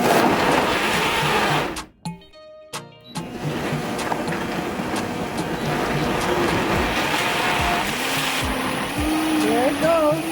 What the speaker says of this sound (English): I'm going to go ahead now and I'm going to blend my coconut all the way